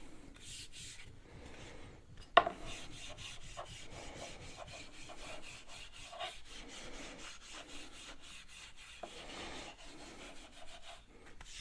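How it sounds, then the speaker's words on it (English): Steel wool rubs against a cedar axe handle in a steady, fairly close scratchy rasp of repeated strokes, with one brief louder knock partway through and no talking. "Steel wool, you can use steel wool."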